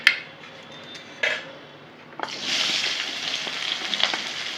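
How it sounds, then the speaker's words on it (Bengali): Onions fry in a pan with a sharp sizzle that swells into a steady close crackle, set off by a few metallic clinks from the pan and utensil and no voice. "লাল লাল করে একটু পেঁয়াজগুলো ভেজে নেবো।"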